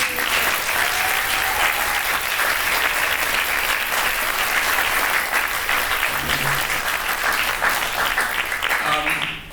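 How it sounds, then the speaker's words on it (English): A crowd claps steadily in sustained applause, loud and full, with a few voices mixed in near the end. "Can we have a round of applause for our alums?"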